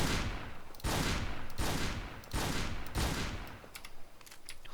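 Shotgun blasts in the video game Darkest Days: four loud, evenly spaced blasts roughly 0.7 seconds apart, each with a long decaying rumble, followed by fainter clicks.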